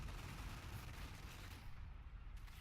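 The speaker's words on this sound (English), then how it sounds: "Artillery going down." Artillery fire rumbles in a WWII battle strategy game set in the Caen campaign, a dense continuous low booming barrage heard up close with no talk.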